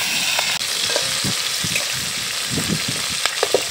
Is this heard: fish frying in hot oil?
yes